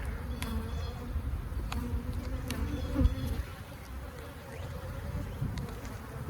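Agitated honeybees buzz around an open hive during an inspection on a cool, cloudy day, a steady, faint drone of many wings with occasional louder passes nearby.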